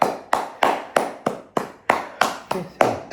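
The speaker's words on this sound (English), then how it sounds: "Now clap." Sharp, evenly spaced hand claps ring out about nine times during a yoga session, each one crisp and close with a short decay, keeping a steady rhythm.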